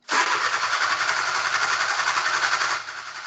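A car with a check engine light on cranks hard for a few seconds in a continuous grinding whir, then catches and drops to a lower running idle, loud and close.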